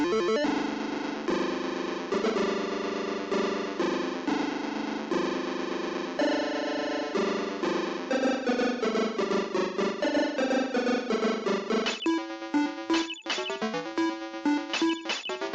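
Chiptune intro music from an Amstrad CPC 6128 game plays continuously: buzzy square-wave melody notes in quick succession, shifting into a faster, more staccato pattern near the end, with no talk.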